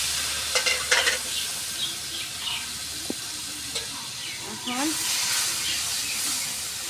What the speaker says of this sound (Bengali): মশলাটা পানি দিয়ে সাথে কষে নিব সুন্দর করে।